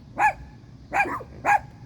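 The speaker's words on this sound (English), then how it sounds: "my little companions decided to bark at whatever decided to blow by" Small dogs barking in three separate bursts, fairly close and loud, with quiet pauses between, no talking.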